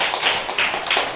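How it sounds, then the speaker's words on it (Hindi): Applause for a little girl in a storytelling class, a short burst of steady, fairly close clapping from a small group, with no talk over it. "ताली बजाओ भाई बच्ची के लिए"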